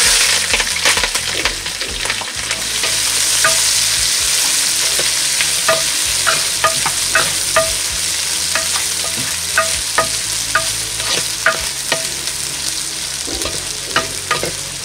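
Cashews, onion, green chilli and curry leaves frying in ghee for Jaffna-style ghee rice, giving a loud, steady sizzle close by, punctuated by repeated scraping stirs of a spoon against the pan, with no talking.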